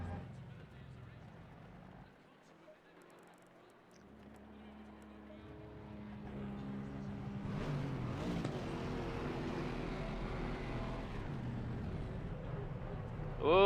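Race cars circling Brands Hatch in a racing sim, engines droning low at first, then swelling into a dense, sustained roar as many cars pass close together, with a voice talking over the noise.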